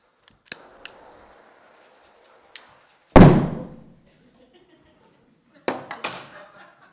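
A single loud, sharp bang from hydrogen combustion in a university lecture demonstration rings out and decays over about a second. Small clicks and thuds come before it, and a pair of fainter knocks follow.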